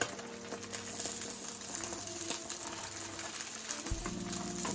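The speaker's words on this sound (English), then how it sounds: "I'll season my eggs and then go in right away with the rice." Eggs and rice frying in a hot pan, a loud, steady close sizzle with crackling and stirring scrapes, a sharp clatter near the end as more food goes in.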